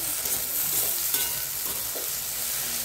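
Okra being stirred in a hot pan, a loud close scraping and sizzling that runs continuously with uneven rustling strokes and no voices.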